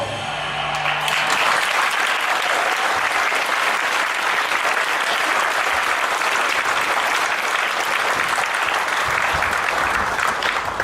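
A children's theatre audience at a Peter Pan stage show breaks into loud, dense applause and cheering that carries on steadily and close for the whole span.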